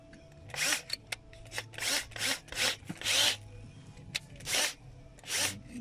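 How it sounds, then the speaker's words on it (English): A power drill with a 5/16 bit bites into a 2006 Volkswagen Jetta's front right wheel sensor in about eight short, harsh bursts, separated by brief pauses, close by. "now we'll attempt to drill it"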